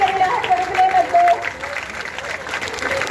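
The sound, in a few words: crowd applause at village welcome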